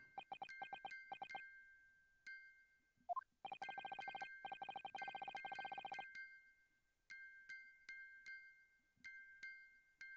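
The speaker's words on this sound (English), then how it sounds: "the sound emanating from this music box is not supposed to be music" A music box in the video game The Great Ace Attorney chimes in rapid runs of bright metallic notes, broken by short pauses and then resuming with sparser plinks, clear and close with no voices.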